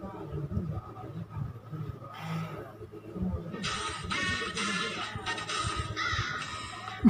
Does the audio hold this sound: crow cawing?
yes